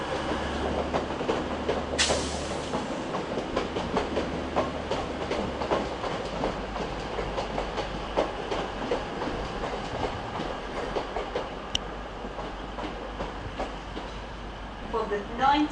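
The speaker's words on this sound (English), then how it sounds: "There's 185108 heading off for Hull." A Class 185 diesel train pulls out of Manchester Piccadilly station bound for Hull, a steady rumble with rhythmic wheel clatter over rail joints, under a voice talking and general station noise.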